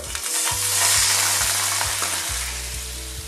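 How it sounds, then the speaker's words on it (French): Loud, steady sizzling from a hot pan as red wine is poured in to deglaze, a bright crackling hiss with a few scraping stirs throughout. "Petit déglaçage au vin rouge."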